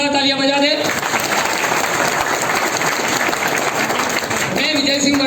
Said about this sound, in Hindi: अब आपसे रिक्वेस्ट करूंगा दोस्तों कि अपने स्वयं के लिए एक बार जोरदार तालियां बजा दें।